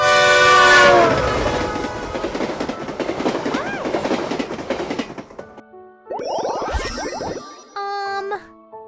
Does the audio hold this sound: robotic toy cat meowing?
no